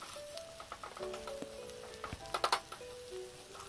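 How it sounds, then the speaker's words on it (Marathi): A Marathi-style tempering of chilli and asafoetida frying in oil for curd rice, heard as a faint, soft sizzle with scattered ticks and a few thin tonal chirps in the background. "ही फोडणी आपल्याला चांगली फ्राय करायची आहे।"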